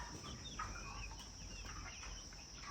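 Broiler chickens in a poultry house on a Ghana farm give faint, scattered clucks over a steady low hum of the shed.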